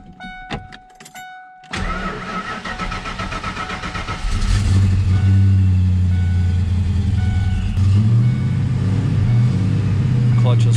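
Door chime beeps, then a Ford Mustang Foxbody's engine cranks and starts, settling into a loud, close, steady idle with a deep rumble and a brief rev near the end.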